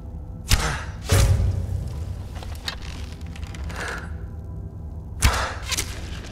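Orcish arrows strike enemies in Skyrim Special Edition, a cave fight: sharp thuds with brief swishes land in uneven bursts, a few close hits spaced seconds apart over quieter background noise.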